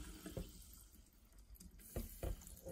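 Kirkland Italian sparkling mineral water is poured into a container, quiet splashing and fizzing with a few brief louder pours, close by and without talk.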